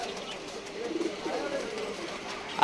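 Pigeons at a busy pigeon market coo in short soft bursts, mixed into a murmur of people talking close by.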